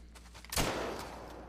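A single rifle shot fired at an aggressive crocodile while hunting in the game Call of the Wild, a sharp broadband crack with a long, fading tail afterward, heard alone.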